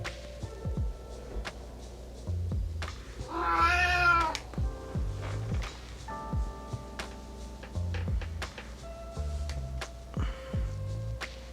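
A smart speaker plays recorded cat meows as part of a novelty voice-assistant skill: a long drawn-out wavering meow near the start, then several shorter meows and chirps spaced across the clip.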